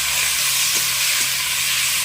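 Onion paste and chopped tomato frying in a pan, giving a steady, close hiss and sizzle with faint stirring scrapes and no talking.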